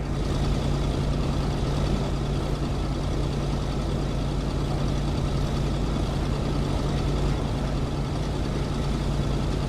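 Truck being driven in the video game Kona, a steady, loud engine drone with a low hum running continuously and no break, no voices over it.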